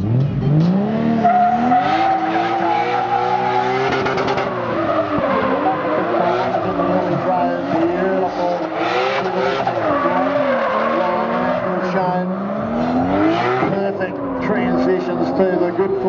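A Toyota Soarer drift car skids through a run with continuous loud tire squeal and engine roar, pitch rising and sweeping as it transitions, while an announcer talks over it.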